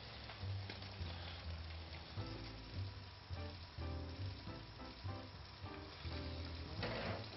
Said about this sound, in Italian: il burro si è sciolto, mettiamo le sogliole in padella.